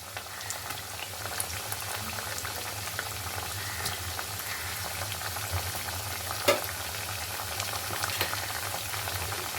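Dough pieces frying in hot oil for a crisp golden-brown teatime snack make a steady, dense bubbling sizzle with faint crackles and one small pop, no voices over it.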